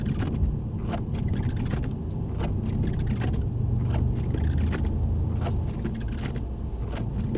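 A Mercedes-AMG car driven around the track at Mercedes-Benz World Brooklands: a steady, low engine rumble with road noise holds evenly throughout, close and continuous, with no talk.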